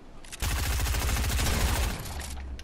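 Rapid automatic gunfire in a video game, a dense burst of close, loud shots lasting about a second and a half, then a quieter tail.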